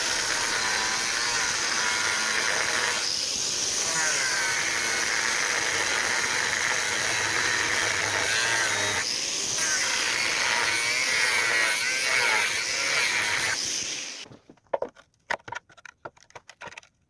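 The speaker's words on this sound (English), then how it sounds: "I'm just going to use an angle grinder to cut the old hub right in half" An angle grinder cutting a steel hub in half gives a steady, loud, high-pitched grinding whine for about fourteen seconds, then cuts out, leaving scattered clanks and scrapes.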